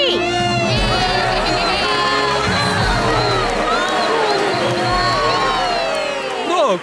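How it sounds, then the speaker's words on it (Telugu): An animated crowd at a Pokémon contest cheers, claps and shouts loudly and continuously, a dense roar of many voices that swells slightly near the end. "వాళ్ళిద్దరికి అందరూ గట్టిగా చప్పట్లు కొట్టండి"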